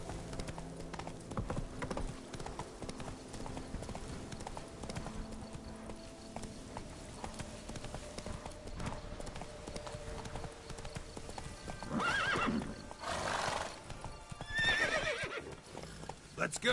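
In The Witcher 3, Roach the horse gallops with steady, rapid hoofbeats, and a couple of loud neighs break out toward the end over a bed of game music.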